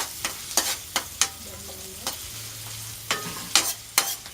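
Onion and garlic sauteing in a pan: a low steady sizzle punctuated by about ten sharp scraping stirs of a spatula, close and clear, with no talking.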